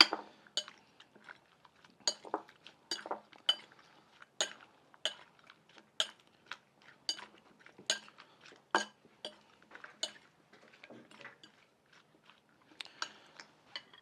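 Utensils clink and tap against a bowl as teriyaki sauce ingredients are stirred together, a faint, close, irregular series of light knocks and scrapes.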